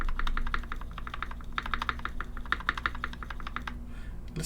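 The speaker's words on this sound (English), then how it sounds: "But listen to this spacebar." Clacky presses on a C3 Zer0.9 polycarbonate mechanical keyboard with NK Cream switches come close and crisp, mostly a quick irregular run of key and spacebar strikes with a short pause near the end.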